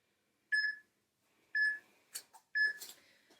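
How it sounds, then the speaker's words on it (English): An electronic workout interval timer beeps three times, about one second apart, at the start of a bodyweight upper-body session. Each beep is a short, clear tone, with a few soft thuds and rustles between them. "So let's get my timer started."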